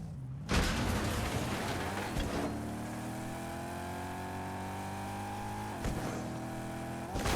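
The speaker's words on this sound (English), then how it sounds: "So I do really like the sound of the car." A Fortnite DT5 Imperator car engine hums steadily with rising harmonic tones as it accelerates, loud and close, with a couple of brief bumps or shifts along the way.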